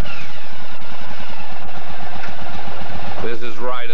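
A Yamaha racing motorcycle rolls out of the pits at a race, its engine giving a low, throbbing, pulsing rumble, with a voice coming in over it near the end.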